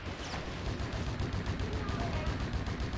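Rapid gunfire in a game rattles continuously as infantry are shot, a steady dense barrage of shots at moderate loudness with a voice faintly beneath.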